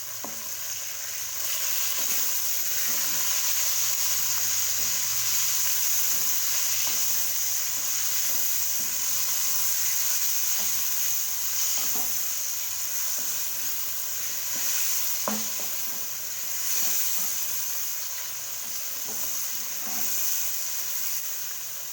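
Four sliced tomatoes fry and are stirred in a pan for dhaba-style aloo palak sabzi, giving a steady, close sizzle throughout with occasional scraping and clicking from the spoon.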